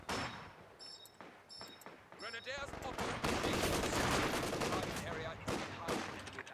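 Machine-gun fire rattles through a 4v4 Company of Heroes 2 battle in a forest, dense and continuous, mixed with other overlapping gunfire and a few brief voices.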